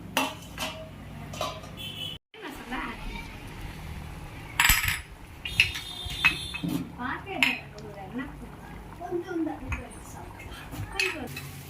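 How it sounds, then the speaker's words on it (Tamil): Metal pot and lid clatter and clink on a home kitchen stove while chicken gravy cooks, a few sharp knocks standing out over low background noise and some distant voices. "இப்போ நம்ம மூடி போட்டு கொஞ்சம் வேக வச்சிடலாம்."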